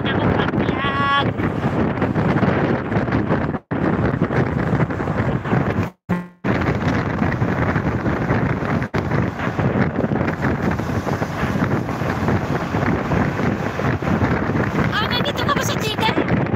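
Strong wind buffets a phone microphone outdoors on the way to a Jeddah fish market, a loud continuous roaring rumble with brief dropouts, and faint voices show through now and then.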